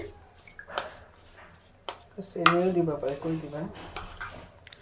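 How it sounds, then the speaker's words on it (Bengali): Grated coconut and jaggery are stirred together in a metal pot for steamed winter pitha, with scattered scrapes and clinks of a utensil against the pot; a voice runs underneath for part of it. "এখানে আম্মা গুড় আর নারকেলটাকে ভালো করে মিশিয়ে নিচ্ছে"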